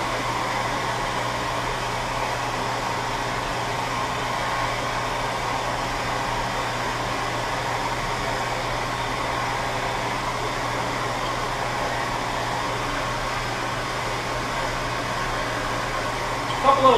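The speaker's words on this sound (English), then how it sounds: "I like to use a heat gun on it when I'm done. Kind of dries it out nicely." A heat gun blows steadily on a freshly painted part, a loud, even whooshing roar that holds constant without pause from start to finish.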